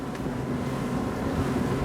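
Motorboat cruising at about 27 knots with the engine at 4,800 rpm, a steady close drone of engine and hull over rushing water and wind buffeting, continuous and even throughout.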